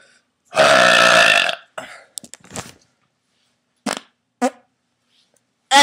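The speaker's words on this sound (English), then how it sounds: "Maybe I could do another fart burp at the same time." A long, loud burp with a strained, rasping quality opens the sequence, followed by a few short throaty bursts and gaps of silence before a final burst at the end.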